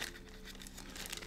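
A plastic bag crinkling as it is handled during the unboxing of cycling products, a brief, close, continuous rustle with sharp crackles.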